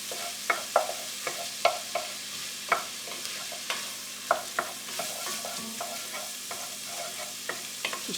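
Tomato paste cooking in a pot for a Hungarian red kidney bean soup, a soft sizzle under regular scraping spoon strokes that land about twice a second, close and fairly quiet, with no voices.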